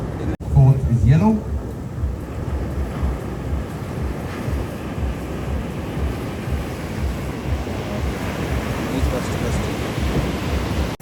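Ocean surf rolls and washes steadily at a surfing competition in Varkala, a dense, continuous rumble mixed with wind buffeting the microphone, a brief voice calling out at the start.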